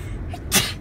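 A single short sneeze bursts out close by, a quick sharp breathy blast over faint room background, during a walkthrough tour of brand-new houses.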